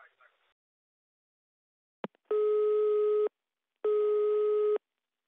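After a caller hangs up, a telephone line clicks and then gives two long, steady busy-signal beeps separated by a short gap, clear and alone apart from a faint voice fragment at the start.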